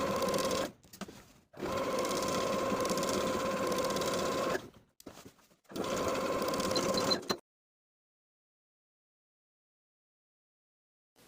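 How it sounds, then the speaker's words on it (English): A sewing machine runs a straight stitch through elastic on a cover-up set's shorts, whirring in three steady bursts separated by short pauses before falling silent. "I'll sew with a regular straight stitch right through the center of my elastic"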